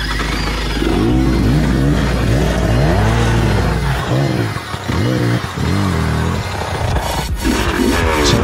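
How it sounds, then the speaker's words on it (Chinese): A Reiju MR300 dirt bike engine on an off-road enduro trail, loud and close, rising and falling through repeated revs, briefly dipping before revving again. "脚踩好再发动"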